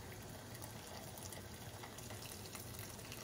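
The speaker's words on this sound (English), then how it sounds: "Now I'm gonna put a little bit of hot water." Very hot, already boiling water poured from a container into a cooking pot over cow stomach tripe for Portuguese dobrada, a faint, steady splashing stream running continuously and evenly without speech.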